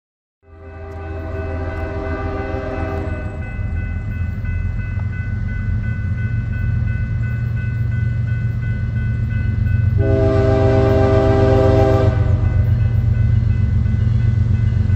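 A southbound Amtrak Cascades passenger train, pushed by a Charger locomotive, rumbles steadily nearby with a deep engine drone while its multi-tone horn blasts twice in long sustained calls, the second louder and closer.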